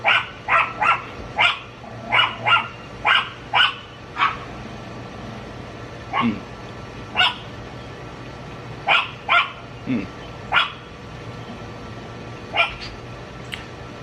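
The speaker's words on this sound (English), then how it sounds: "because Moo is just gonna keep interrupting and barking and driving things crazy" A dog barks repeatedly indoors near a kitchen, loud sharp yaps in quick clusters then spaced single barks, with no talk.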